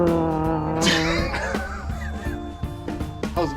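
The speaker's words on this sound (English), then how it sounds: "There's a motorcycle." A motorcycle passes outdoors in a driveway during rear brake work on a 2017 Land Rover Discovery, a steady engine rumble rising and falling as it goes by, with sharp clanks and knocks from nearby tools over it.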